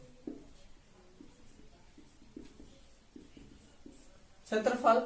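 Pen writing on paper while working a Class 10 maths problem on the area of a circle: soft, close scratching strokes in short bursts, ending in a louder, busier flurry, with a voice speaking in the background.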